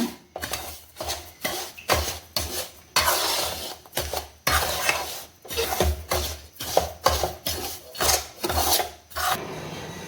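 A rava laddu mixture with roasted cashews and raisins is stirred and pressed in a vessel, giving close, rhythmic rasping scrapes in repeated bursts with brief pauses and no talking.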